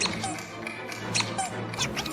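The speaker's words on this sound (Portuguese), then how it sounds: "O som do rangido é basicamente o coração batendo" A cartoon creaking sound effect from SpongeBob SquarePants, heard as repeated high squeaky creaks, some of them paired, over a busy background for about two seconds.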